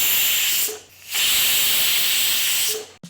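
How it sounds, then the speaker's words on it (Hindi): Steam hisses loudly and steadily from a pressure cooker used for making kheer, cutting out briefly near the start, then surging back and stopping abruptly with a short burst at the end. "इतनी ही देर में आपके कुकर की 2 सीटी भी आ जाएंगी"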